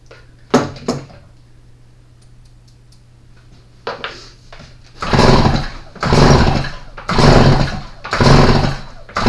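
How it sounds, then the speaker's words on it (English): Stihl MS310 chainsaw engine pulled over by its starter cord with the spark plug removed, giving four rhythmic, loud whirring pulls after a couple of faint earlier tugs, close up with no talk. "I'm going to take that plug out, and I'm just going to turn it over a few times"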